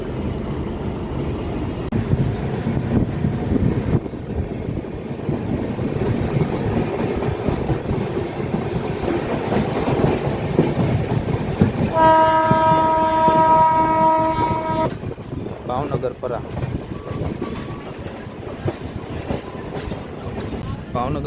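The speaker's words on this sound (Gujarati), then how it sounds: "આપણી ટ્રેન ભાવનગર ટર્મિનસથી 6:30 પરફેક્ટ ટાઈમે ઉપડી ગઈ છે." A train hauled by a WDG3 diesel locomotive pulls out of Bhavnagar Terminus with a steady, loud rumble of wheels and engine, and a sustained horn blast sounds midway before the clatter continues.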